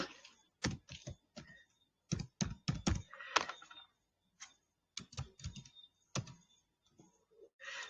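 Quiet typing on a computer keyboard, irregular bursts of sharp clicks and key taps with short pauses between them, close by and alone without talk.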